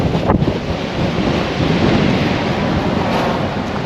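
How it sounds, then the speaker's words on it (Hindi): Strong storm wind buffets a truck on the road, a loud rough rumbling roar with gusty swells that batter the microphone continuously throughout, with no voices. "यहाँ पे एक तरह से तूफ़ान चल रहा"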